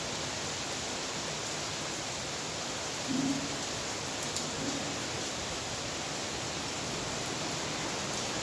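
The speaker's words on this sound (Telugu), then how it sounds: "వర్షం బాగా పడుతుంది" Heavy rain pours down in a constant, dense hiss, with no pauses, and a faint brief sound near the middle.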